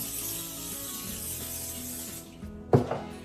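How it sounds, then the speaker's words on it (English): A steady hissing spray of cooking spray into a 9x13 casserole dish runs for about two seconds, then stops, followed by a sharp knock of something set down nearby. "A little bit of cooking spray."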